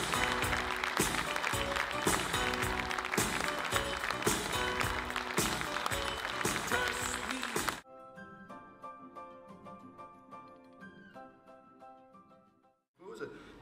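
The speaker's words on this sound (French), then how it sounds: "Je vous demande d'accueillir le président de la Fédération internationale des logis, je vous en applaudir, Thierry Amirou." Conference audience at a Logis de France event clapping to welcome the president of the international federation, loud sustained applause that cuts off abruptly, followed by softer piano music.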